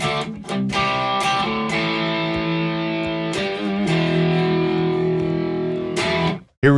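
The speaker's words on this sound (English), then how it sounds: "Here's channel 2, the crunch." An ENYA Nova Go Sonic electric guitar with a built-in speaker, on its crunch channel, strums chords with a slightly gritty, crunchy tone, sustained and fairly loud, ending with a short cutoff.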